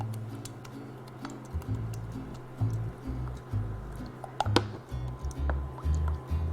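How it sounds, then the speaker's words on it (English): Panna cotta mixture being stirred in a pot, heard as close, soft scraping and squishy ticking strokes in an uneven rhythm, fairly quiet with no talking. "So let's just give this a nice stir here."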